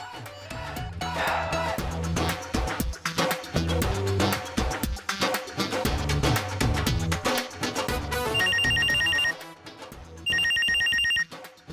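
A telephone rings repeatedly over busy background music, its bright electronic trill standing out in two clear bursts near the end.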